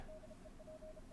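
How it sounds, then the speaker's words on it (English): Morse code beeps, a faint intermittent tone in short and long pulses over a low hiss. "Morse code."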